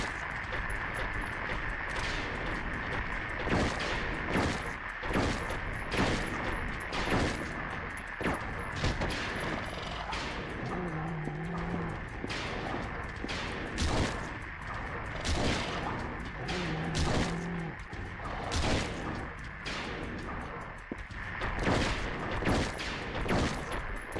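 Repeated gunfire in the survival horror game Silent Hill 3, a dense run of sharp shots and bursts spread through the whole stretch over a steady background, with no talk.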